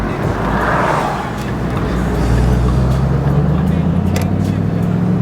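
A 2013 Shelby GT500 cruising through a tunnel, its engine a loud, steady low drone with rising pitch, echoing road and exhaust roar filling the enclosed space.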